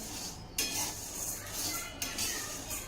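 A mixture for a festival recipe roasts in a pan, giving soft crackling and sizzling along with scraping and clinking of a spoon against the metal, fairly quiet and close.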